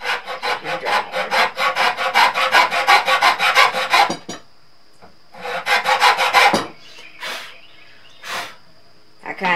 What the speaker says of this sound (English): You're just cutting a couple little slits here